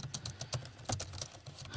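Keys on an Acer Aspire E 15 laptop are pressed in quick irregular succession, a run of soft close plastic clicks and taps at low volume with no talking.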